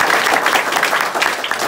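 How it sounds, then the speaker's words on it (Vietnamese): An audience at a Vietnamese Teachers' Day gathering breaks into loud, steady applause, many hands clapping together in a thick continuous patter with no pauses. "Một tràng pháo tay lớn cho thầy Điều."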